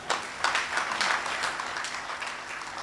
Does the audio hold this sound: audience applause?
yes